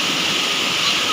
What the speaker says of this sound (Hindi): मेरे गांव का ये छोटा सा नदी झरना आप बोल सकते हो, वाटरफॉल छोटा सा